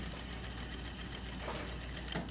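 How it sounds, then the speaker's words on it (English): A sewing machine runs steadily, easing stitches along the shoulder of a tailored jacket, a continuous close mechanical whirr and rattle without talk. "I'm going to run my easing stitches on the shoulder"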